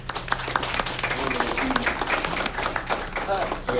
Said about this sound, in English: we can give Ms. Turquoise Rouse a big round of applause for Employee of the Month.